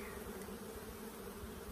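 Bees hum in a dense, continuous drone around colonies raising queen bees, the buzz steady and fairly close with no voices.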